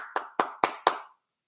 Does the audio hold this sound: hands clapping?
yes